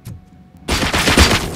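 A powerful gun in RoboCop: Rogue City fires, after a quiet moment, in one sudden loud blast with a rumbling tail and echo close up.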